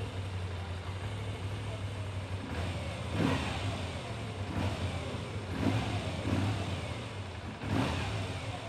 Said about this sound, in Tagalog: Pag nire-rev ko, gumaganon.